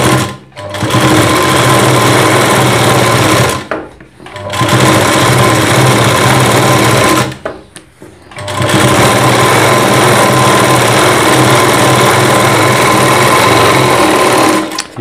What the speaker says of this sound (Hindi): इसके बाद हमें क्या करना है, ये ऊपर की सिलाई लगा देनी है